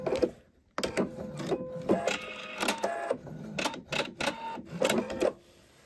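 A sewing machine runs stay-stitching around a V-neck facing. Short bursts of rapid mechanical stitching stop and start between pauses, close and fairly loud, with no voices.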